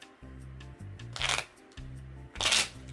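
Two quick riffles of playing cards for a deck-building card game, each a crisp, rattling burst about half a second long, with a low steady hum underneath.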